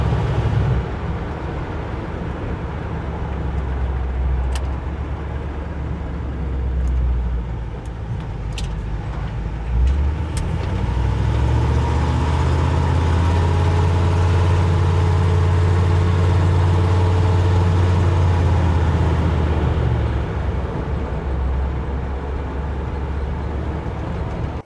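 A car engine fitted with an Edelbrock carburetor and an AFR gauge starts up and runs, a steady low rumble that holds at idle, swells briefly as it revs, then settles back, with a few faint clicks near the start.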